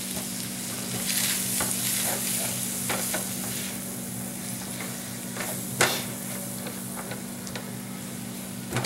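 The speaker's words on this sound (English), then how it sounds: "So now I'm going to add 6 tablespoons of flour. I'm going to mix it in" Flour is stirred into hot pork grease in a pan, a continuous soft sizzle with repeated scraping strokes of the spoon across the bottom, close and steady, with one sharper knock partway through and a low hum underneath.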